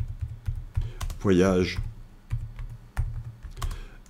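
Keys clatter on a computer keyboard as a name is typed into diagram software, a quick irregular run of close clicks with a short pause; someone speaks briefly in the middle.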